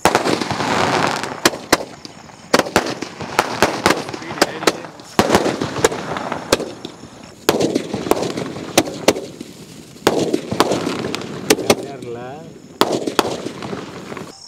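Diwali 120-shot sky shot firework bursting overhead: a long run of loud, sharp cracks and bangs fired in quick succession, each followed by a brief crackling tail, with short pauses between volleys.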